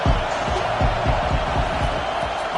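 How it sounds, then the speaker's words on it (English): Home crowd at a college football game roaring in a dense, continuous wash of noise, with rhythmic stomping or clapping pulses underneath and loud, sustained cheering throughout. "this crowd really affecting the football game"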